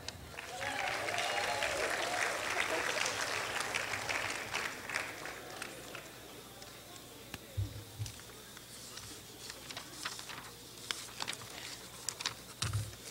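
Audience applause for students at a school board regular meeting, a sustained wash of clapping that swells early, then thins into scattered claps with a few low thumps toward the end.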